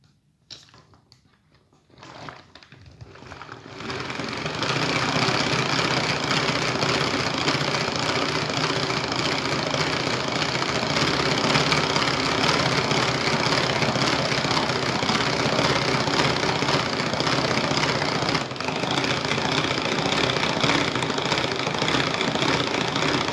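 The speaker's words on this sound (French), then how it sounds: "Et tout ça, on va fouetter en vitesse 1." An electric mixer whisks powdered sugar at its lowest speed, with a steady, loud motor whir that starts after a few quiet seconds and runs continuously without pause.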